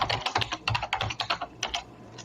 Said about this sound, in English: That's quite a mechanical keyboard.